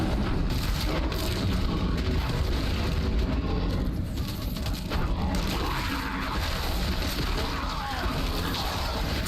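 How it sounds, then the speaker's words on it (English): Big yellow ground explosions go off right underneath a Druid in Diablo IV, a dense, continuous roar of booming blasts and crashes layered over busy game noise, loud and sustained with no clear gaps. "these big yellow ground explosions that are just right underneath me"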